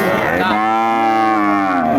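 A single long, loud cow moo at a cattle market, a sustained bellow lasting about two seconds, close to the listener and with no talk over it.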